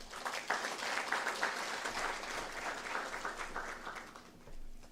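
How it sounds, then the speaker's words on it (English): Audience applause at a climate change summit gala dinner, a steady wash of clapping from a crowd that carries on for about five seconds and fades briefly near the end. "A round of applause to all of you."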